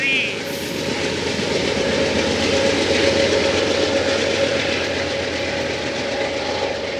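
A passenger train with a cab car at the rear rolls past at Fullerton, a loud, steady rumble of wheels and cars with a faint rhythmic clatter that continues throughout.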